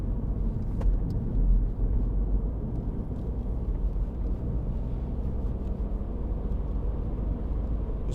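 A 2015 MINI Cooper D hatchback, 1.5-litre diesel automatic, accelerates through bends; a steady, loud low engine and road rumble drones throughout without speech.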